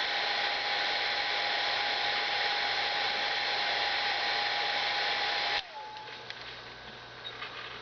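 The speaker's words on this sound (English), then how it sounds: "Here's a heat gun. Let's see if we can shrink this thing up a little bit." Heat gun blowing hot air to shrink tubing during a Simpson milliamp meter conversion: a loud, steady broadband whoosh for about five and a half seconds, then it cuts off to a quieter hum with faint handling noises.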